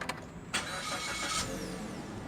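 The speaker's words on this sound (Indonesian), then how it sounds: "Mobil langsung menyala." A Suzuki S-Cross with keyless push-button start turns over, a brief cranking burst catching into a steady, smooth idle heard close by, without talk.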